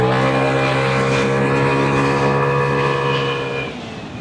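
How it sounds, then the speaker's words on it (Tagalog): A Vespa S125 scooter with a bore-up upgrade revs steadily at high pitch, a loud, close, sustained engine whine that drops off near the end. "Tignan mo lang yung throttle movement, tsaka yung speed. Yung response ng motorsiklo."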